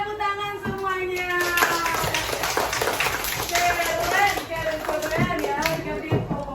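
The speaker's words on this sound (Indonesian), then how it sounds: "Oke, tepuk tangan semuanya" A class of young schoolchildren claps their hands together in a primary school classroom, the uneven clapping running alongside children's voices and a teacher speaking.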